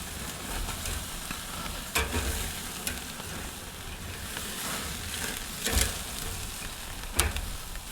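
Spatchcocked Greek chicken sizzles on a Weber kettle grill after being flipped, a close, continuous crackling hiss with a few louder sputtering bursts spaced through it.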